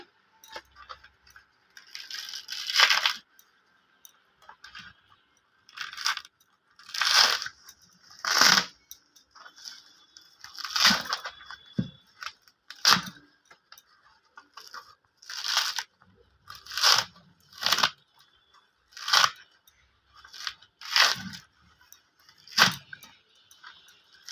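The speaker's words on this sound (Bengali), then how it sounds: "এইভাবে সবগুলো নারকেলগুলো আমরা ছাড়িয়ে নেবো" Whole coconuts are husked and their shells cracked by hand, a series of sharp, close knocks and crunches in uneven bursts with quiet gaps between them, some strikes ringing briefly, and nobody talking.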